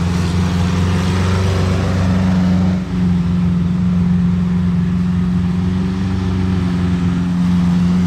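A Ferrari 812 with a stage 2 tune puts out a loud, steady, low engine drone at close range. The tone holds evenly throughout, with only a brief dip partway.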